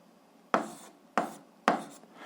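Handwriting an algebra solution with pen on paper: three short scratchy strokes, each a crisp onset that fades quickly, close and clear with no talk.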